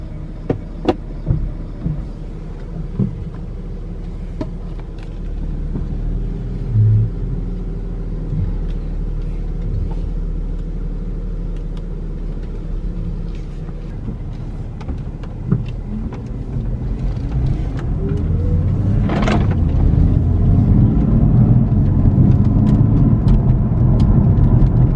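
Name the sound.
BMW F80 M3 car driving on the road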